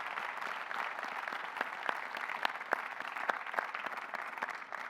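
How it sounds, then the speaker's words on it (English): A dense, steady round of applause from a commencement audience at BSU's 2023 undergraduate morning ceremony, with many hands clapping together at an even level for the whole stretch. "Could we show our gratitude with a round of applause?"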